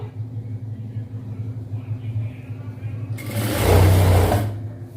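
A sewing machine stitching a chudidhar starts up after a quiet stretch, a short loud whirring burst of about a second and a half over a low background hum.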